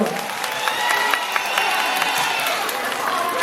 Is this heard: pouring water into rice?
no